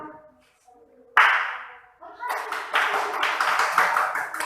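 Students in a classroom clap for a classmate; after a short lead-in with a sharp smack and some voices, a burst of quick, overlapping claps from many hands fills the room.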